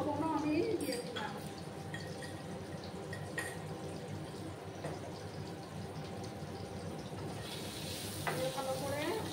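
Potatoes frying in a pan with a little salt, a soft continuous sizzle and faint stirring scrapes, quiet and close, with a voice speaking over part of it.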